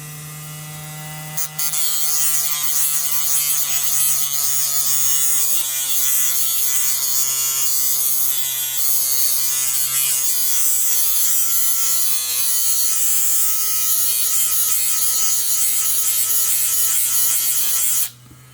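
An automatic faceting machine grinds a workpiece with a steady high-pitched mechanical whine, its tone rising gradually as the speed is increased, close and loud and continuous until it cuts off at the end.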